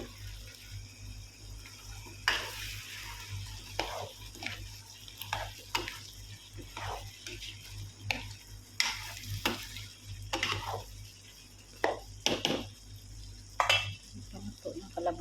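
Squash cooks in a covered pan at home with a soft, intermittent sizzle. Scattered clinks and scrapes of the lid and utensils sound close by at a low overall level.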